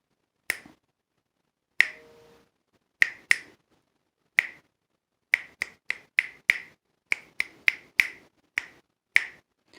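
A run of sharp finger snaps, alone and close, starting sparse with long gaps and then tightening into a quicker, uneven rhythmic pattern of roughly a dozen snaps.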